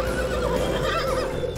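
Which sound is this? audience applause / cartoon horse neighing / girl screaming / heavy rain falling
cartoon horse neighing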